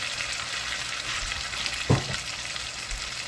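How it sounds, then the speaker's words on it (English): Creamed corn goes into a hot pot of corn chowder: a soft low plop lands over a constant quiet sizzle and bubbling. "I'm just going to add the cream corn"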